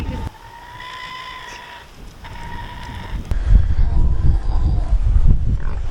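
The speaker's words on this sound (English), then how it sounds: "I love the way they talk to each other, the pigs talking to each other." Mini pigs grunt to one another in low, rough bursts that grow louder and more frequent in the second half, close by, over a faint steady background hum.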